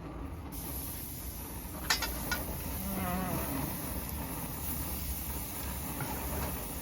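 Chicken shawarma pieces sizzle on a grill, a soft, steady hiss that runs continuously at low level, broken by a couple of brief clicks and pops near the middle.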